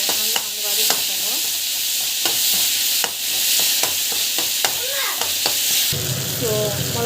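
Tomatoes sautéing in a hot pan, a loud continuous sizzle close by with repeated sharp scraping clicks of a spatula stirring throughout, no talking.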